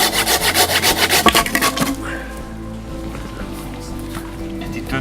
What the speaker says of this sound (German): Wir sehen zu, dass wir ein paar Baumstämme und zusammen sägen hier von dem Totholz.